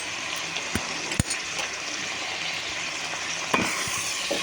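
Onions with salt sizzle steadily in a pan at low volume, with a few sharp clinks and scrapes of stirring and no talking.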